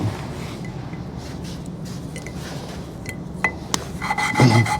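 Steady close-up rubbing and rasping as an engine valve is lapped by hand with grinding paste, with a few sharp taps near the end.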